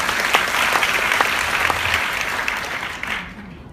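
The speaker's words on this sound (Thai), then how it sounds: "เสียงปรบมือที่สองท่านด้วยนะคะ" An audience applauds at a Thai event, a dense and loud wash of clapping that stays steady before thinning out at the very end.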